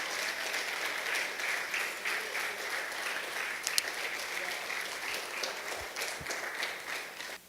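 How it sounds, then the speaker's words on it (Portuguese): A church congregation applauds during an evangelical service, a dense, steady wash of many hands clapping that holds at an even level for the whole stretch, with no voices over it. "Pode aplaudir porque é para Jesus."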